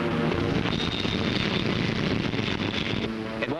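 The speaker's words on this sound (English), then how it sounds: "Stand by to take aircraft aboard." WWII Corsair fighter plane approaching to land aboard an aircraft carrier in the Pacific: a loud, continuous engine roar mixed with heavy wind rush, with no talk over it.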